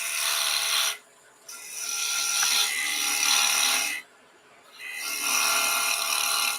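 A scraper cuts wood on a woodturning lathe, bringing a piece down to its final diameter. Loud, close, rasping hiss comes in three sustained passes separated by two brief pauses.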